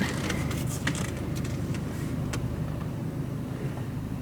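A car engine hums steadily at close range as the car slowly reverses out of a driveway, a constant low rumble with a few faint clicks and no talking.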